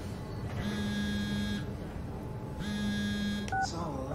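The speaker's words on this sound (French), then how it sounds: "Oui, mon portable, c'est mon portable." A mobile phone rings in the video game Soma: two sustained electronic ring bursts separated by a short pause, then a brief beep, fairly loud and close.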